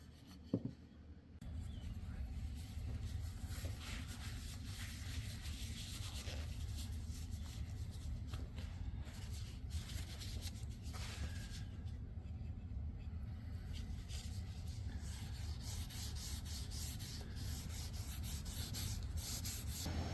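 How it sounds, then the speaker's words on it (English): Stain is rubbed onto a wooden flail handle made from repurposed scrap, giving a continuous close scrubbing, rasping friction over a low steady rumble, with no talking. "So now I think it's time to stain it."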